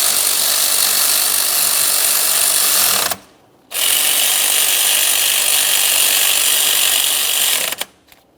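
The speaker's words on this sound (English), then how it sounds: "We're going to snug the lower mounting bolts." A power tool runs in a loud, steady whir while snugging the lower alternator mounting bolts on a 2004-2008 Ford F-150 5.4L V8, close up, with a short pause near the middle, then a second long burst ending in a brief clack.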